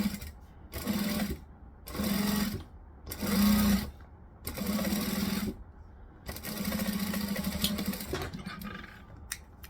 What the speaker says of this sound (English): I'm going to start right near the top. I'm going to stitch. I'm going to back stitch. I'm going to forward stitch.